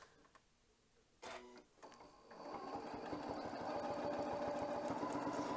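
A sewing machine stitches around a circle during ruler quilting, starting after a few quiet clicks and handling sounds, then building to a fast, steady whir that runs close and moderately loud to the end.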